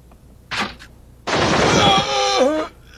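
Gunshot in a dubbed 1993 film scene, a short burst followed by a louder sustained crack and ringing echo, with a groaning cry at the end.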